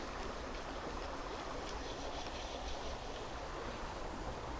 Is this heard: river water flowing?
yes